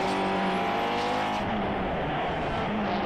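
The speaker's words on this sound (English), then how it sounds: "Paul Bryden flashes through, as does Ron Cumming." Saloon race cars at a 2018 SMRC Sports & Saloons circuit race pass loudly and close by, with engines roaring at high revs, a brief tyre squeal and a continuous dense roar with no talk.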